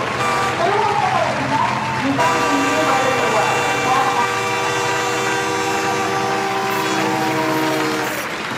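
A train at a busy railway station in Mangalore, with a long steady rumble, sustained horn-like tones and a continuous crowd murmur throughout, voices talking over the station noise.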